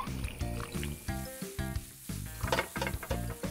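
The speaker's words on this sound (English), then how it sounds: "Sizzle, sizzle." Eggs fry in a pan in a children's cartoon about camping food. A rhythmic, crackling sizzle pulses in short repeated bursts with a bouncy, musical quality and no talk.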